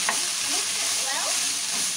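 Shredded cabbage and carrot sizzle steadily in a frying pan for Singapore-style rice, a loud, close crackling hiss with faint scraping as the mixture is tossed.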